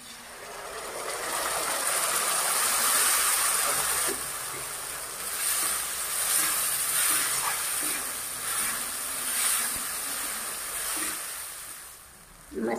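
Soaked spice paste sizzling with softened browned onions in a hot pan, a steady loud hiss of frying that holds for the whole stretch with small crackles and faint clatter, no voices over it.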